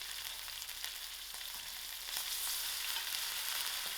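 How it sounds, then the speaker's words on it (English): Curry leaves, thyme and ginger garlic fry in a pan for dhal curry, giving a continuous close sizzle that swells slightly louder partway through. "allow this to fry for a little while. I'm also going to add in my curry leaf and my thyme and my ginger garlic to it."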